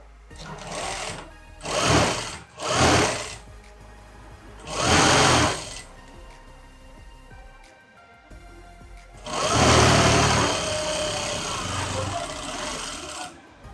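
Sewing machine stitching a skirt and shirt, running in several short bursts and one longer continuous run, close and loud, with quiet pauses between.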